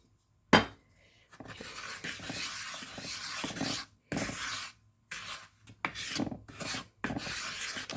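A spoon stirs a cinnamon-spiced baking mixture in a bowl, producing close, gritty scraping and rubbing strokes in uneven bursts with brief pauses between them, opening with a sharp knock.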